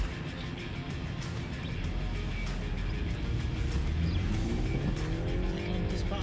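Car driving at 80 kilometers per hour on a training course, a steady, loud roar of engine and road noise heard from inside the cabin, with the engine note rising slightly toward the end.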